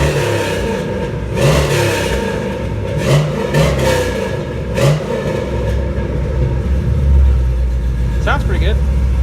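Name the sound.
83 Chevy K10 LS swap engine revving with new exhaust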